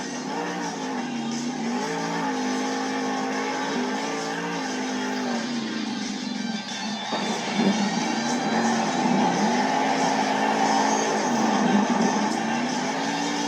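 A monster truck engine roars and revs continuously through a Monster Jam stadium show in Arlington, Texas, its pitch rising and falling in long sweeps as the truck launches off a car stack and flips over, loud and sustained.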